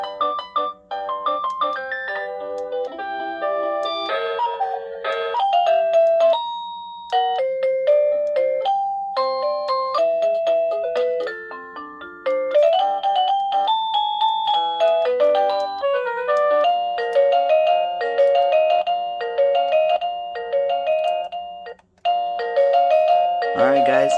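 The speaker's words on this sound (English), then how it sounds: "Get your wireless doorbell now." Avantek waterproof wireless doorbell playing a string of chime melodies one after another, clear, close electronic tones in steady stepwise patterns with brief gaps between tunes.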